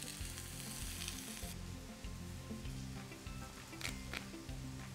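Potatoes fry in a hot pan with a dense, continuous sizzle and crackle. The sound is close and steady, with occasional stirring shifts and no voices.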